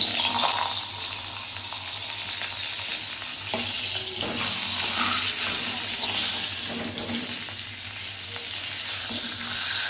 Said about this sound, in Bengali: তো এখন কড়া গরম হয়ে গেছে, তো চলো তেল দিয়ে দিই, রান্না শুরু করে দিই। আমি দিয়ে দিচ্ছি মাছের মাথা।